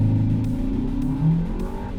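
A 2026 Volkswagen Tayron R-Line in sport mode, all-wheel drive, accelerates hard along an empty road, its engine droning steadily and loudly with a rising pitch heard from inside the cabin.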